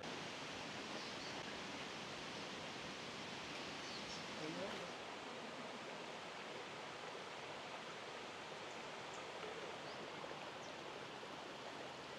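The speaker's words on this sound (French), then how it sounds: "Je viens d'arriver au premier niveau de la cascade." Steady broadband roar of the Erawan waterfall at its first level in Thailand, constant rushing water close by with no pauses, a brief faint voice-like trace partway through.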